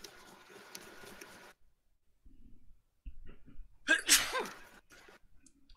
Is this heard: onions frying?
no